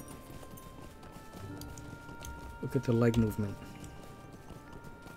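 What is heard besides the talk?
horse mount hooves walking, video game Lord of the Rings Online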